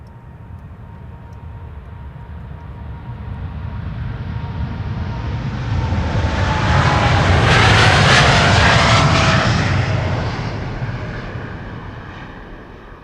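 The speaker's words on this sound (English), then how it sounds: "This is KLM flight 741 to Bogota, 787-10 Dreamliner." KLM Boeing 787-10 Dreamliner jet on a flight from Amsterdam Schiphol, its engine roar swelling as it approaches, peaking loud overhead around the middle, then fading away, with a whining tone sliding downward as it passes.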